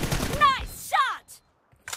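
Shotgun blasts in a shooter video game: after a voice and sharp whistling tones, two short, punchy shots land about half a second apart.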